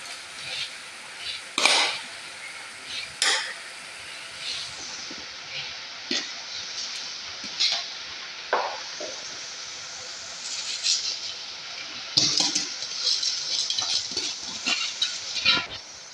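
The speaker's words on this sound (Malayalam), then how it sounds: "ഇനി നമുക്ക് ഈ അരി ഇതിലേക്ക് ബസ്മതി റൈസ് ഇതിലേക്ക് ഇട്ട് കൊടുക്കാം" Basmati rice tipped into a pot with a spoon of oil and stirred, giving scattered scraping and clattering strokes over a soft steady background hiss, moderately close, with no talk.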